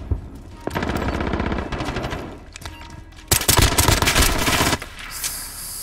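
Rapid automatic bursts from the RAM 7 assault rifle in Call of Duty Warzone, loud and close, two long sustained strings of fire separated by a brief pause.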